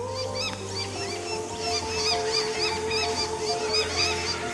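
Birds harassing a lace monitor raiding nests in Sydney bushland, a dense chorus of repeated honking calls overlapping continuously over a low steady background hum, fairly close and persistent.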